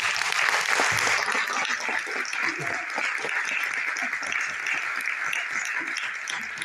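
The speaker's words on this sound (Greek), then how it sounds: "Θέλω όμως από εσάς να μου δώσετε ένα δυνατό χειροκρότημα στο όνομα που μόλις τώρα θα πω." An audience at a book presentation applauds in a steady, moderately loud round of clapping, with faint voices underneath.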